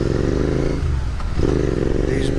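A Royal Enfield Continental GT650 motorcycle ridden in Delhi, its engine a loud, steady low drone throughout with a brief dip in intensity partway through.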